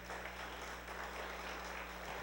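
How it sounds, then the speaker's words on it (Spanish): Congregation in a Pentecostal evangelical church in Peru clapping together, a steady continuous wash of applause heard fairly faintly. "Dale un fuerte aplauso a nuestro Dios."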